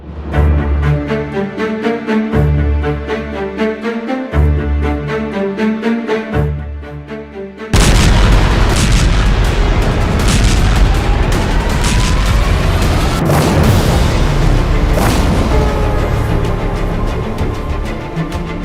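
Missile attack explosions and rolling blasts come in a loud, continuous barrage that follows several seconds of rhythmic music. Booming impacts and crackling fire run on without talk.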